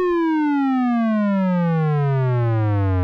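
A Korg Monologue synth tone sweeps steadily downward under a sawtooth LFO, a bright, buzzy harmonic-rich pitch descending smoothly and continuously for about three seconds, loud and alone.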